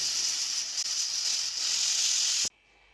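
A loud, steady hiss of steam venting under pressure from a multicooker after cooking soup, then abruptly cutting off, leaving a faint quiet background.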